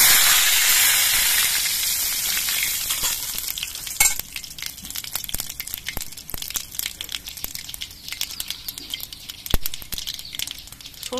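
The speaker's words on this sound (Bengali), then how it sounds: "এর মধ্যে আমি অল্প একটু কালো সর্ষে ফোড়ন দিয়ে দিচ্ছি" Black mustard seeds sputter and fry in hot mustard oil, a steady close sizzle that fades after the first few seconds into scattered crackles and pops with no talking.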